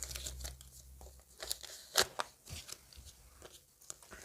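Close, crinkly tearing and rustling of a paper packet being ripped open in short bursts, with a few sharper crackles, no talking.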